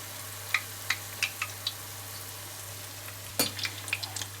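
Cod fritters, buñuelos de bacalao, fry in hot oil with a constant close sizzle and scattered sharp pops and crackles, including one louder spit, with no talk.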